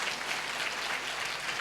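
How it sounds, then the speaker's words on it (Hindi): A church congregation claps hands in praise during a Sunday service, a soft, even wash of many hands clapping at a distance, faint but continuous. "ताली बजाकर प्रभु को स्तुति करेंगे"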